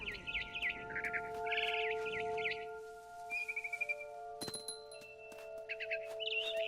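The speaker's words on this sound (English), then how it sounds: "Then I heard chirping outside my window. It was a barn swallow going back to her nest." A barn swallow in the game What Remains of Edith Finch chirps in quick, bright bursts of repeated notes, fairly near but soft, over a quiet ambience with faint bell-like tones.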